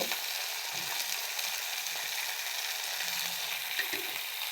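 Mint and coriander leaves sizzle in hot oil in a pan for a pachadi, a steady close frying hiss with no break and no talk over it.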